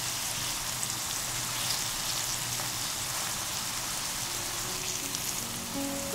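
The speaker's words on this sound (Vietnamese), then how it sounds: "Khi dầu đã nóng thì mình cho tàu hũ vào chiên" Strips of dried tofu skin fry in hot oil in a pan, giving a steady, dense sizzle and crackle that continues evenly without talk.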